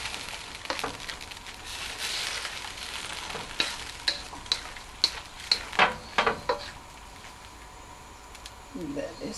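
Chicken, mushroom and egg fu yong sizzles in a pan with a steady hiss, punctuated by several sharp spatters and pops in the middle stretch, fairly close.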